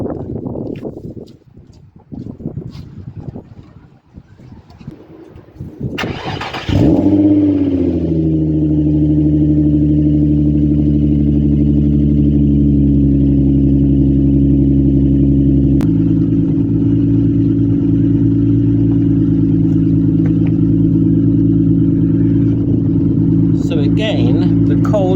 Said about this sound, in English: we'll do another cold start with the straight through pipe and see what we get